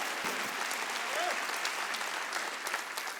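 Congregation applause during a Wednesday church service, a soft, even patter of many hands clapping throughout, heard from a distance with a faint voice briefly rising in the middle.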